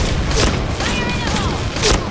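Explosions and gunfire crackle in the online shooter Point Blank, dense bursts and booms layered over one another in a loud continuous barrage, with a couple of sharper blasts standing out.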